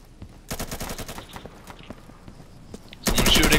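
Rapid bursts of gunfire in the video game Insurgency, a rattling string of shots followed by scattered single cracks, then a loud sudden volley at the end, close and harsh.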